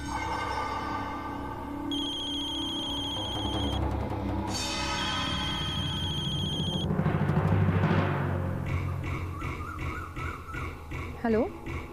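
A phone rings in a Marathi TV serial, heard as two electronic ringtone stretches with steady tones over background music, after which a voice answers.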